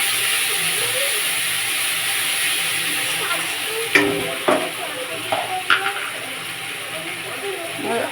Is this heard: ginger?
yes